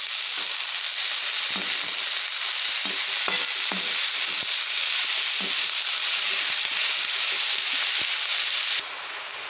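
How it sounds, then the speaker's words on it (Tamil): Cut beans and onions sautéing in a pan, a loud, steady sizzle with occasional scraping taps from stirring, continuous throughout and easing slightly at the end. "இப்போ கட் பண்ணியிருக்க பீன்ஸை சேர்த்துக்கலாம் சேர்த்து நல்லா வதக்கி எடுத்துக்கலாம்"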